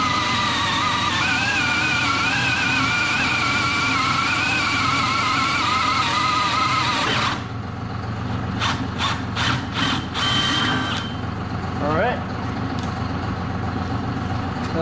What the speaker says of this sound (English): I've got the tractor out there running.